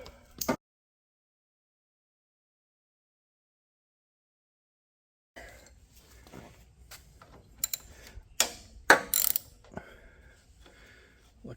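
Ratchet wrench clicking as cover bolts come off a Cub Cadet RT65 rototiller, a brief burst, then silence, then a stretch of scattered mechanical clicks and clanks close by, with no talk.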